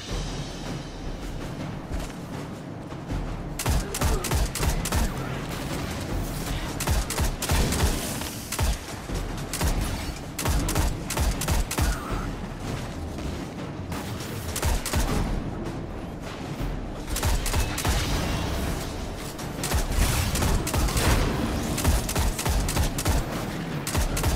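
Rapid gunfire in the video game Destiny 2 comes as dense, loud bursts of shots and heavy thumps, repeated in clusters with brief gaps across the whole stretch and no audible talk.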